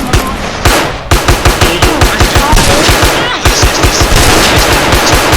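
Rapid automatic gunfire from a video game rattles loudly and close, bursts of evenly spaced shots nearly filling the moment, with brief gaps between volleys and faint voices in the background.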